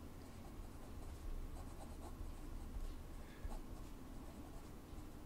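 Montblanc Meisterstück Classique fountain pen nib scratching across paper, a soft, close, continuous rustle of writing strokes with small ticks, quiet and alone without talk.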